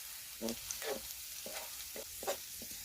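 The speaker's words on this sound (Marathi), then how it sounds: "तेल गरम झाल्यावर सर्वात आधी लसूण टाकलेलं आहे आपण त्यानंतर लसूण परतून झाल्यावर जिरा टाकलेला आहे आपण" Garlic and cumin seeds frying in hot oil, a soft, faint crackling sizzle punctuated by a few gentle stirring clicks.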